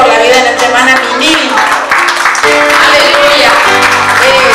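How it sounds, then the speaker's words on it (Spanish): Church congregation claps during a birthday celebration service, the applause mixed under music and voices throughout, loud and continuous. "le vamos a dar un fuerte aplauso al Señor"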